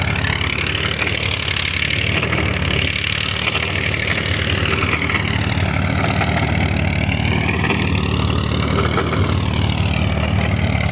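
A Massey Ferguson 135 tractor works a 42-cutter rotavator in a field, its engine a continuous, close, loud drone with the churning of the implement blended in. No one speaks.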